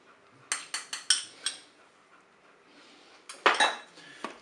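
Utensil scraping and clinking against a Cookeo pot while mustard is stirred into pork and vegetables, a quick run of sharp metallic strokes, then a pause, then another cluster, close and crisp with no talking.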